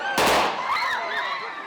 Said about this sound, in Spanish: Se han llegado a escuchar disparos al aire